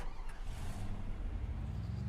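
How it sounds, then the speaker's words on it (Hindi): Car engine rumbling while driving in the video game Free Fire, a low steady motor drone with faint rising revs, moderately quiet and continuous without talk. "अब आपका भाई चलेगा गाड़ी में आगे"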